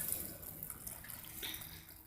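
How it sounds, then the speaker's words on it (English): Hot water at about 165 degrees poured onto grain for beer brewing, a soft, quiet splashing trickle that runs briefly and continuously with no voices. "Adding some boiling water"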